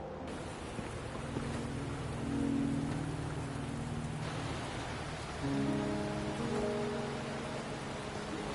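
Steady rain falls in the video game Wuthering Waves, a continuous soft wash with tonal game music or ambience layered over it, swelling slightly in two spots, with no voices.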